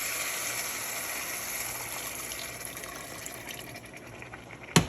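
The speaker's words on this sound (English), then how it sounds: "So I'm just pouring water" Water pours steadily into a pot for cooking rice, a constant close gushing flow that tapers slightly before ending with a sharp clunk.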